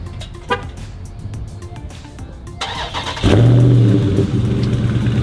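A Dodge Scat Pack's engine cranks and fires after a few seconds of quiet clicks and rustling, bursting into a loud, close idle with a deep rumble and a short rev that settles into a steady growl.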